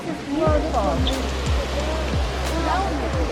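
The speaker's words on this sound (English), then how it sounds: "Waterfall?" A waterfall near a wooden footbridge at Neuschwanstein Castle gives a steady rushing roar close by, while people talk over it and footsteps thud on the boards.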